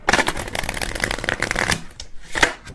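A deck of cards is shuffled by hand close up: rapid crackling riffles, a brief pause, then one more flurry.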